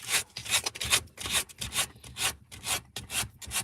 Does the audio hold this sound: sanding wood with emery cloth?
yes